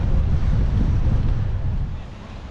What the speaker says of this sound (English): That's a breezy beach day.